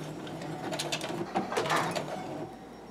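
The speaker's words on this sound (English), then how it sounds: "And start my first stitch. And I'll go backwards a little bit." A sewing machine stitches the start of a fabric bowl under the presser foot, running forward and briefly in reverse, giving a steady mechanical whir with clicking needle strokes through three seconds at close range.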